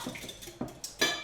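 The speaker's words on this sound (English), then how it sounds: "So we're going to whisk this," A whisk clinks and scrapes against a bowl while pancake batter is mixed, giving a few quick, close, light metallic taps spread over a second with no talking.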